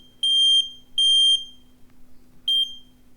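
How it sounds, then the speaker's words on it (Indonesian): A fire alarm gives three sharp, loud electronic beeps, the first two close together and the third after a longer gap, over a faint steady hum. "fire alarm"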